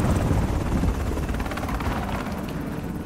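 Helicopter in the video game Call of Duty Modern Warfare, a loud, close, rapid rotor chop over a dense engine roar, steady for the few seconds heard, without speech.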